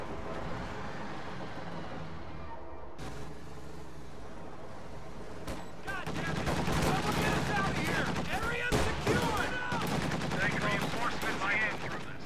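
A howitzer artillery barrage and gunfire in a real-time strategy video game, with a steady bed of distant battle noise that swells into dense, rapid bursts of shots and explosions.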